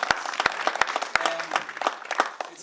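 A live audience at an evening film screening applauds and cheers after being asked to respond, a dense run of claps with sharp individual smacks standing out, loud and close.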